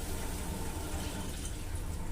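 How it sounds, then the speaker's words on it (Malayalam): Water pours steadily into a fish curry for about two seconds, a continuous splashing gush, close by and fairly soft, with no voices. "അതിനവിടെ കുറച്ച് വെള്ളം കൂടെ ഒഴിക്കാം"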